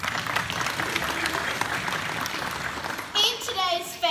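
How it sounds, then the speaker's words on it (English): A children's audience at a school gathering claps in a dense, lively burst for most of the moment, then the clapping fades as an adult voice starts speaking. "You participate in the voting by clapping your wings as we go along."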